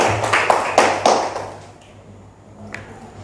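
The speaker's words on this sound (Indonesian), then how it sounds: "Tepuk tangan untuk kalian semua." In a classroom, a brief burst of sharp claps ripples for about a second and a half, then fades into a quiet room hum.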